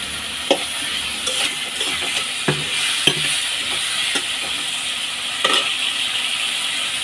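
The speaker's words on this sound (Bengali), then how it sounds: "মশলাটা ভালো করে কষছে" Spice masala sautéing and sizzling in a pan, a constant hiss broken by a handful of sharp spatula scrapes and knocks, close and loud, with no voices.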